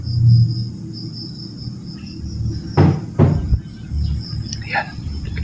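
Two sharp knocks land on a door at night, alone against a steady chorus of crickets, followed by fainter bumps.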